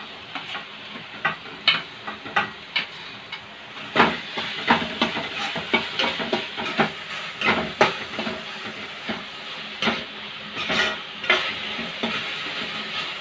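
Tomatoes fry and are stirred into browned onions in a pan for a Rajasthani turmeric sabji, with steady sizzling under repeated scraping stirs that come in close, uneven bursts throughout.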